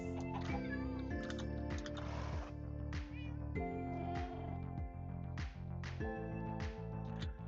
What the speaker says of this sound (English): Couple of cats.